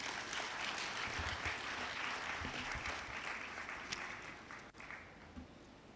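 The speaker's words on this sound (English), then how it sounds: "Let us double that hand clap, ladies and gentlemen." A conference audience at a Bank of Uganda suppliers' event claps steadily, a broad wash of many hands that stays even and tapers slightly toward the close.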